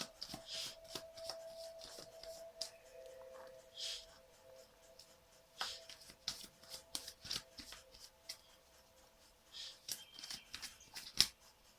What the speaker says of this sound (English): Four shuffles, and if there's no card,